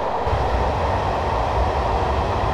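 Class 421 electric multiple unit accelerating toward 75 mph on the Brighton to London Victoria line in Train Simulator 2015, a steady loud rumbling drone of running gear and traction hum with no break throughout.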